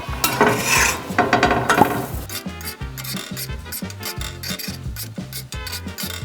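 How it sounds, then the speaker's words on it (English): Mini banana pancakes are flipped in a pan on moderate heat, with close scraping and light clattering of a spatula against the pan in quick, irregular bursts and no voices. "They're starting to bubble up, so let's give them a flip."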